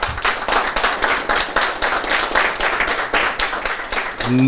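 An audience gives a loud round of applause for a doctor, Dr. Mallesh Naik, at an Ayush medical talk; dense, steady clapping fills the whole stretch from start to end with no voices over it.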